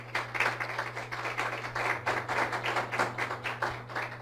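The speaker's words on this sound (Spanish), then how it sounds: "Dale un aplauso al Señor" A church congregation gives quiet, rhythmic applause during a sermon, a steady patter of clapping over a low electrical hum, fairly distant and soft.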